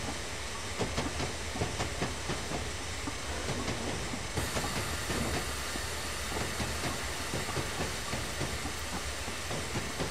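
Steam locomotive rolling into Wincanton in Train Simulator 2016, continuous heavy rail rumble with steam hiss and faint wheel clatter, holding steady throughout with no voices.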